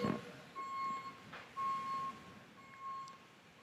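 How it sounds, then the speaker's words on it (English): A vehicle's reversing backup horn beeps in a steady, evenly spaced series at a sailing regatta, fairly faint and distant over open outdoor background noise. "Sorry about the backup horn."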